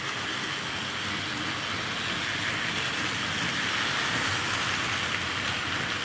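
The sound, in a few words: Wrenn model locomotives running on a layout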